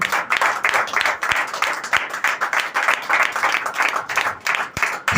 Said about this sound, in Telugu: చప్పట్లు కొడదాం ఒకసారి అందరూ కలిసి